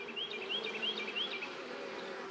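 Honeybees at a hive entrance make a steady low droning hum, close and fairly quiet, with a few faint high chirps above it.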